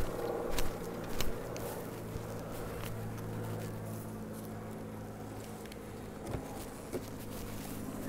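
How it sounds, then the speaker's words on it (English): A low, continuous buzzing of many honey bees nearby from an opened hive, with occasional soft knocks and taps rising above the drone. "we got bees"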